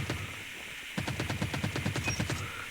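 An ASM10 assault rifle in a video game fires a rapid burst: after a short lull, a fast, even string of sharp close shots rattles on for about two seconds.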